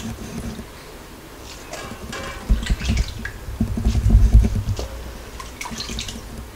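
Wet leftover cooked rice is squeezed by hand to press out water, giving close squelching, dripping and splashing sounds that come in irregular bursts, louder in the middle.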